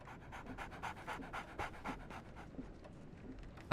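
A puppy pants in rapid, steady bursts of quick breaths, close and fairly soft, inside the Sherlock Holmes The Awakened video game, ending with a sudden louder sound.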